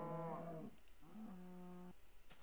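A cow in the Minecraft video game moos twice, a longer call followed by a second drawn-out moo, both close and clear with a brief click between them.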